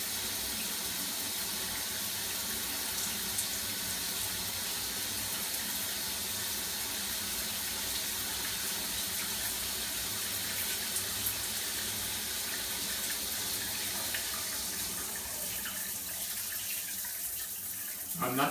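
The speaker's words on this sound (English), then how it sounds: "Turn the water on." Shower water runs steadily through a water-saving shower valve, a constant hiss of spray that continues evenly and then shifts slightly near the end.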